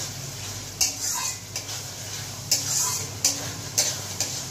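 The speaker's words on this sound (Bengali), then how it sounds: "ভালো করে মশলাটাকে কষিয়ে নিতে হবে" Spice masala stir-fried in a pan for Kashmiri dum polao: a soft sizzle with about half a dozen crisp spatula scrapes and clacks against the metal, spaced irregularly.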